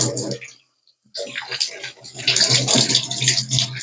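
Water splashes and runs over fish being cleaned by gloved hands, close and fairly loud, with a brief silent gap before the splashing resumes.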